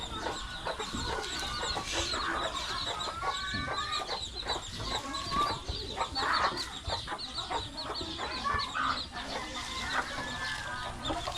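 Several chickens cluck steadily and overlap one another, fairly close, with a busy farmyard murmur underneath.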